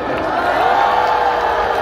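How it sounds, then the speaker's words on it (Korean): At an outdoor political rally against a presidential impeachment in Gwanghwamun, a large crowd cheers and applauds with a sustained roar of voices and clapping. "우리 애국 청소년에게 큰 박수 주세요"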